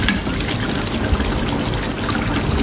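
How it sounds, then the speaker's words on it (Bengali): Fish curry gravy spooned over fish pieces in a pan: a steady, close, fairly loud wet pouring and dribbling sound with no gaps. "মাছগুলোকে মোটামুটি ঝোলের মধ্যে একটু ডুবিয়ে দিই"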